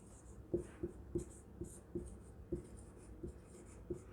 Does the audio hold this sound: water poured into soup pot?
no